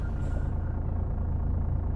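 A modded engine on an Iveco truck in Euro Truck Simulator 2 drones steadily at a low pitch, a continuous close rumble with no breaks and no talk over it.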